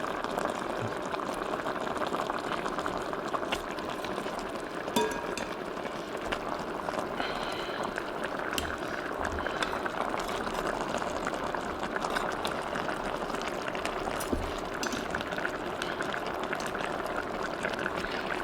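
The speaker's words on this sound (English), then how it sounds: "Now that we have this at a, let's call it a simmer more than a boil" Oxtail braising liquid simmering in a single pot, a steady soft bubbling hiss running throughout with occasional faint clicks.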